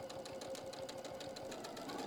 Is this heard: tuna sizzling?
no